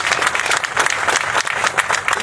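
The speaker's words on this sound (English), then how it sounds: "That deserves a round of applause." An outdoor crowd at a park renaming ceremony claps loudly and continuously, a thick wash of many hands honoring a man who served his community, with no voices breaking through.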